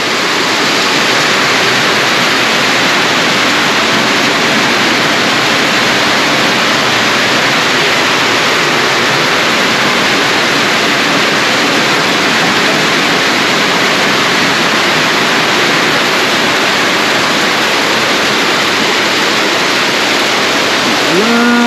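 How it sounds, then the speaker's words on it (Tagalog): Heavy rain pours steadily during a typhoon, a dense, loud, continuous wash of broadband hiss with no pauses and no talk over it. "Oh, grabe, malakas na si ulan."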